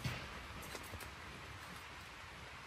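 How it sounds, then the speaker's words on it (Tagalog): Steady rain falls at night on a campsite in Arrowhead Provincial Park, a dense, even hiss of drops with no voices and no pauses throughout. "Yung tunog ng ulan."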